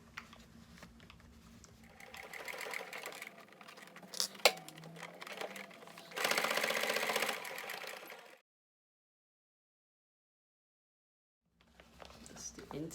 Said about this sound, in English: So after clipping, I'm going to sew down the two sides.